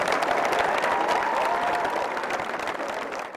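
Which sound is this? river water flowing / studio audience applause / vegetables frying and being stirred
studio audience applause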